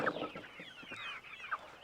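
Hens cluck softly nearby in short, bubbling calls inside a chicken tractor, a couple of higher squawks standing out against a quiet background.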